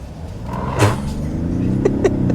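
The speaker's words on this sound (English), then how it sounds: "I'm just gonna floor it from a stop here." A 2021 Ford F-150 PowerBoost hybrid pickup in sport mode, floored from a standstill, gives a loud engine note that climbs steadily in pitch, with a couple of sharp clicks near the end.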